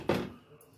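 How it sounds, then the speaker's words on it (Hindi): A metal pressure cooker lid is opened after cooking mash chana dal, giving one sharp clunk followed by a brief soft rattle, close and alone. "अब हम अपना प्रेशर कुकर खोल लेते हैं"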